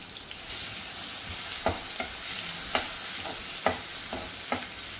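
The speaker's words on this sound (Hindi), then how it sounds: "1 चम्मच घिसा हुआ ग्रेट किया हुआ गार्लिक, सॉटे करेंगे थोड़ा सा" Cumin and grated garlic sauté in a hot pan for pineapple rice, a steady close sizzle with several scraping stir strokes spaced through it.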